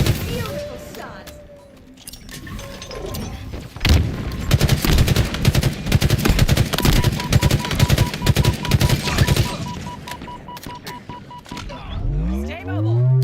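Rapid bursts of gunfire in the Halo Infinite video game, a dense, sustained volley of shots over several seconds amid in-game effects, with voices talking over parts of it.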